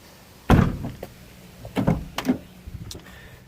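Rear door of a Suzuki Sidekick off-road rig with trimmed fenders being worked: a loud thunk followed by a few lighter latch clicks and knocks, close by, with no talk.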